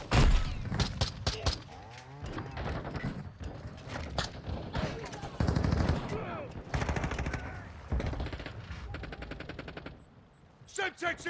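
Enemy gunfire in a first-person shooter video game: rapid automatic bursts and scattered shots crackle over the game's busy sound mix, with a player talking intermittently.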